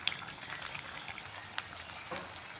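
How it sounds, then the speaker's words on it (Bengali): Egg-shaped capsicum chops fry in hot oil with a soft, steady sizzle and faint bubbling, low and continuous with a few small pops. "একটু সময় নিয়ে ভাজতে হবে"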